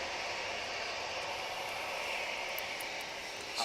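A Boeing 737-300 jet at Manchester Airport, heard as a constant, fairly distant engine roar with a hissing high whine, steady for a few seconds.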